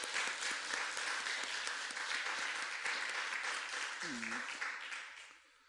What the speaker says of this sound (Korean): 하나님께 박수 올려드리겠습니다.